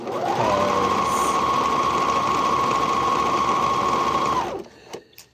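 A serger sewing machine stitching fabric, one that has been struggling to lock and serge with its current thread, runs in a loud steady whir for about four and a half seconds, then stops, leaving faint clicks.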